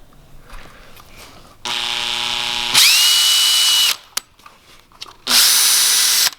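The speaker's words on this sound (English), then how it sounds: "All right, let's drill this." A power drill bores into a carbon fiber fender during a wide-body side skirt install: a steady tonal whine that climbs to a louder, higher-pitched grind, stops briefly, then bursts in again, loud and close with no talking.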